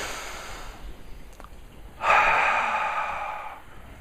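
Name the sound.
people taking a deep breath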